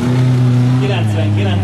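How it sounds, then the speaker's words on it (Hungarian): A demolition derby car driving past on a dirt race track at Kecel, a loud sustained engine drone with a steady low tone that shifts slightly as it passes close, with someone talking over it. "Itt jön egy Roncsdervis autó"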